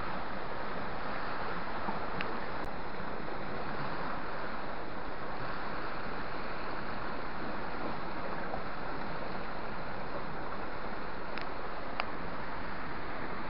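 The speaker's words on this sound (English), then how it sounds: "This is where the biggest quantity of the river water is." Broad, steady rushing of water fills the whole stretch, loud and continuous like a strong river current close by, mixed with some wind noise.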